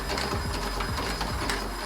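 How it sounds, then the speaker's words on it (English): Robot leg actuator driven at high speed, giving a loud, dense whirring drone with rapid repeating motor sweeps and ticks, close up with no speech. "The actuator can also achieve faster motions like this."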